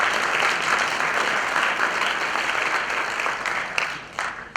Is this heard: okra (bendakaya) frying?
no